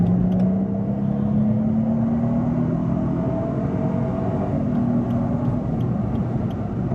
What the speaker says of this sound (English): Pulls away real quick.